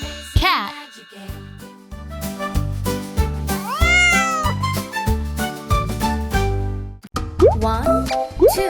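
A cartoon cat in a children's learning animation meows several times, with rising and falling cries between plopping sounds, tinkling effects and a voice.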